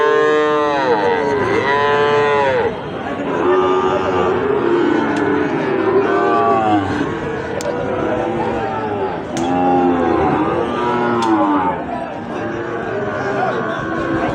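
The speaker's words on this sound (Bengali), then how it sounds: "আমার উপযোগী সাইওয়াল জাতের ষাঁড় বাছুর" Several Sahiwal bull calves moo again and again at a cattle market, long drawn-out calls overlapping against a steady murmur of a crowd around them.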